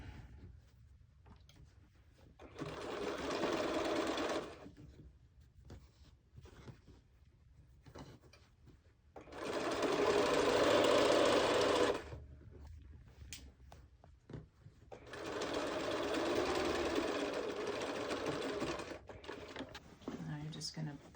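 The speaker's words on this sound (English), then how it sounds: "I'm going to edge stitch those two that open seam together" A sewing machine edge stitches along the open seam of a fabric lunch bag in three separate bursts of a few seconds each. A quieter background with light handling noise fills the pauses between runs.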